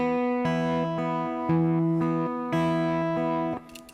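An acoustic guitar plays a repeating fingerpicked arpeggio pattern from a song, with clear, close plucked notes ringing in a steady rhythm, no voices.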